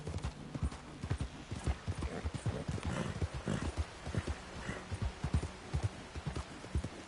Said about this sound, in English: my horse is definitely having a bit of trouble finding its way down